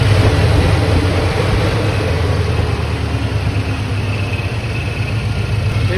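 A car engine idles steadily at about 850 rpm, a continuous low, close rumble with no voices over it.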